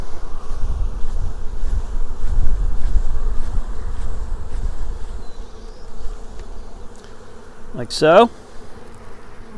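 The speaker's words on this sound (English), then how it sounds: "then we just pour our bees in" Honeybees from a package poured into a hive on top of the queen, a steady low buzzing swarm up close, with a brief louder burst near the end and a few words spoken.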